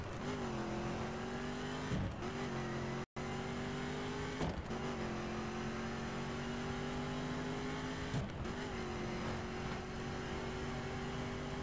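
Racing video game car driving the circuit and building speed, a steady engine drone with rising harmonic tones that dip and recover at a few gear changes, loud and continuous throughout.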